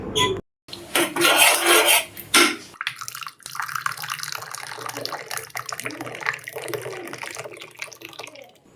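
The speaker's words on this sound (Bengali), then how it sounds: "তো এখন চাটা হয়ে গেছে আমার তো চাটা এরপর আমি কাপের মধ্যে ঢেলে নেবো" Homemade ginger tea is poured from a pan into a cup, a loud rushing liquid stream for a couple of seconds followed by softer trickling, light clinks of the pan and cup, and quiet kitchen clatter.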